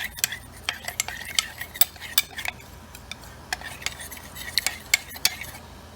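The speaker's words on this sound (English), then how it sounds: "stir this up really good so that it turns into a slurry" Stirring a cornstarch and water slurry in a small bowl for egg drop soup, a quick run of light, bright clinks and taps of a utensil against the dish, close and without voices.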